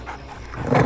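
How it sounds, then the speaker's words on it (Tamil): A dog yips and barks briefly at close range during a street scene in a Tamil film, the sound rising toward the end as the animal runs off. "என்ன நாய் ஓடி போச்சு?"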